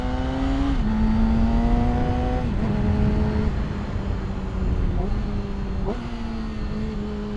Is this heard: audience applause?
no